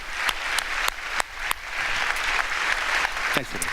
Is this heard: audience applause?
yes